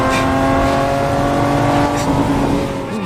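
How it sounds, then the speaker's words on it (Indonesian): Race cars at the Le Mans 24-hour race, including an Aston Martin, roar steadily and loudly with a revving engine drone throughout, easing slightly near the end. "sedang berlangsung kejuaraan balap mobil 24 jam di trek Le Mans"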